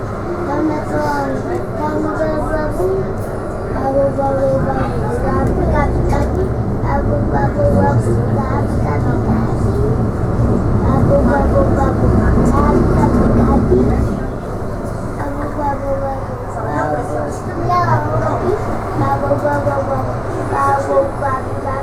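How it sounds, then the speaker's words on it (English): A tram rumbles past nearby near Haymarket station, Edinburgh, with a heavy, continuous roar that swells and then recedes, while people talk over it. "Another train."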